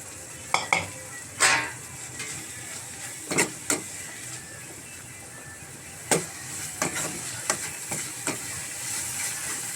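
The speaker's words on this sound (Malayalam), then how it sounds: "നമ്മള് എണ്ണ ചൂടായിട്ടുണ്ട്. നമുക്കിതിൽ ഈ കൊഞ്ച് ഇട്ട് കൊടുക്കാം." Dried prawns fry in hot oil, likely coconut oil, for a prawn chutney: a soft continuous sizzle punctuated by sharp metallic clacks and knocks of a utensil against the pan.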